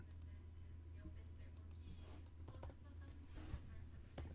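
Keys clatter on a computer keyboard during a live game-programming session, a quiet, irregular stream of soft clicks over a steady low hum, with no talk.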